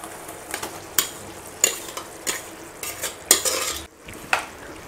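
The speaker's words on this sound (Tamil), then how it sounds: "இப்போ எல்லாத்தையும் ஒன்று சேர நல்லா கிளறி விட்டுக்கலாம்." Pearl millet dal being stirred in a cooking pan, with a spoon scraping and clinking against the metal in repeated strokes about every half second over a soft sizzle, close and fairly quiet.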